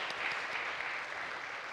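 An audience at a church worship service claps steadily in a faint, even wash of applause from across the hall, with no talking over it.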